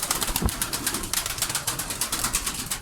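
Pigeons in a loft, dense rapid wing beats and fluttering close by, with a soft cooing bird in the background and a brief thump near the start.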